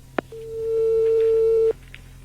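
A telephone handset clicks once, then a steady line tone sounds clearly for over a second and cuts off, with no talk over it.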